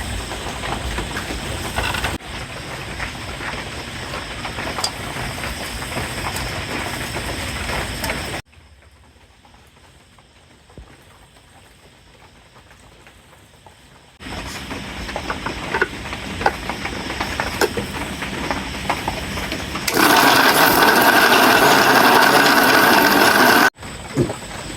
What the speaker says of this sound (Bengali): মিক্সিতে করব।